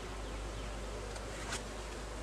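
Honey bees hum in a steady, close swarm drone while a hive frame is handled during a split, with a brief sharper buzz near the end and no one talking.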